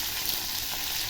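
Pomfret fish frying in a pan on low to medium heat hisses in a brief, even, close sizzle, with no voices.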